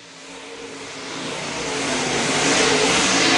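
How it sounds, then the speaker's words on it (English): A-Mod race cars race on an oval track, their engines roaring loudly and building steadily as they come out of a turn, with no talk over them. "Side by side with Fuquay there as they come out of turn number 4."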